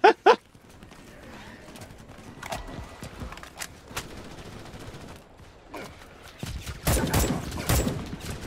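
A machine gun bug fires in Starship Troopers: Extermination, bursts of rapid rattling shots that start sharp and loud, then return as a heavier volley toward the end amid battle noise.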